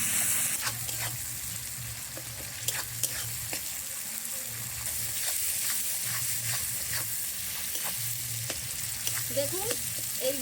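Spice mix with tomato and salt frying in a pan for village-style Gobindobhog rice khichuri, with a constant crackling sizzle and repeated spoon scrapes and taps, a low hum running underneath.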